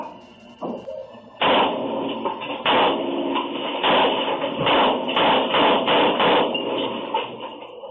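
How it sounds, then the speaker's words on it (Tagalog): Rapid successive gunshots fired by a drunk police officer in Las Piñas, loud sharp bursts repeating irregularly over several seconds with a brief shout near the start. "maririnig ang sunod-sunod na pagpapaputok niya ng baril"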